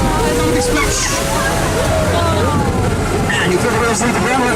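An amphibious duck tour vehicle drives down a slope into a river, its splash a broad, continuous rush and slosh of water close by, with a crowd murmuring throughout.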